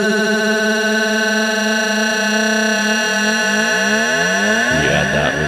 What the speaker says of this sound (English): also use that granulated sound for this riser.